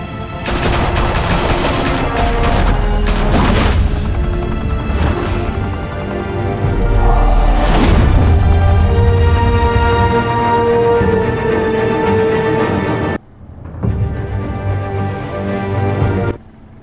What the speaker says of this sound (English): Why are you shooting at Batman?